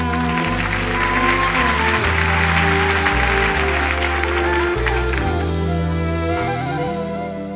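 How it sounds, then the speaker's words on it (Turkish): Audience applause for the accompanying musicians on a Turkish arabesque-night music TV show. The clapping is steady and blends under loud band music with deep bass notes throughout. "Hepsine kocaman bir alkış istiyorum."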